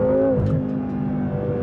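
A BMW M6 Gran Coupe engine at full throttle on a wet onramp, a loud, close, deep engine roar whose tone climbs briefly and then holds steady as the car accelerates.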